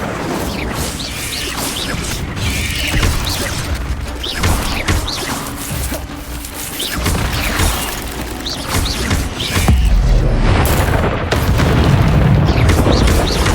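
Incendio fire spell cast in Hogwarts Legacy gameplay, a dense roaring whoosh of fire with heavy booming impacts, loud and continuous over a rumbling game soundscape.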